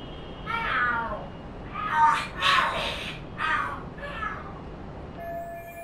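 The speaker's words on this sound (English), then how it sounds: "Are there cats fighting?" Cats fight and scream in the Lost Judgment video game, with several drawn-out, wavering yowls and caterwauls rising and falling across a few seconds over a low, steady background hum.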